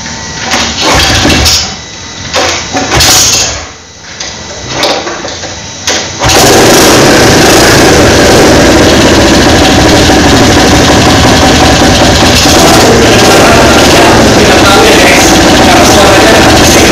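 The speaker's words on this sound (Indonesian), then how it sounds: "Intinya kalian sudah bisa dengar tadi suara mesin." A 1979 Honda Z90 motorcycle engine, small and original, sputters and catches irregularly over several seconds, then settles into a loud, steady, close running drone.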